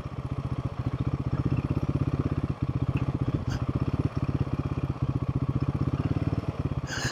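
A Royal Enfield Himalayan 450 motorcycle engine runs steadily with a fast, even pulsing beat and some mechanical clatter, heard close up while riding on a slimy road, with no talking.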